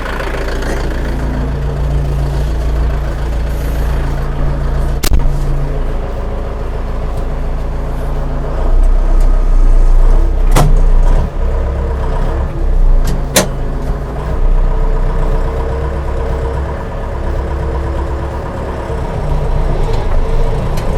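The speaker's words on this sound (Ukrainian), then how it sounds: "Ззаді КАМАЗ їде, треба бігом." A KAMAZ truck approaches from behind on a rural road during a run-in of a new DTZ 504 KKU tractor, its heavy engine a steady low rumble that swells slightly, with a few sharp clicks and no talk.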